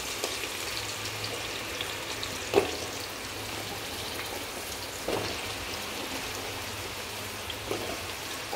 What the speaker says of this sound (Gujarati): સો ઘી જે છે એ સરસ રીતે હવે ગરમ થઈ ગયું છે, અને હવે એમાં નાખવાના છે રતારું ગાજર